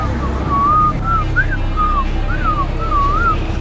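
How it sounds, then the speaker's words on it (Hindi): A man whistles a wavering tune of several short rising and falling notes, close and clear over steady low background rumble, with no talking. "उसको देख के सीटी नहीं बजाई, वैसे सीटी बजा रहा हूँ"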